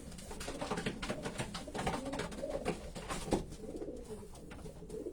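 A Van Loon cross long-distance racing pigeon cock coos in repeated low, throaty phrases close by, with steady rustling and other bird sounds filling the background.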